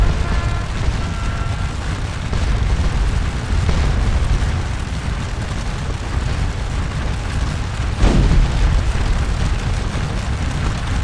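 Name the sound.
artillery firing, video game Scourge of War Waterloo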